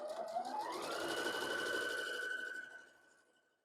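A sewing machine runs steadily for about three seconds, stitching a quarter-inch seam on quilt fabric with the needle held down, its motor whine climbing and then holding a constant pitch before it stops.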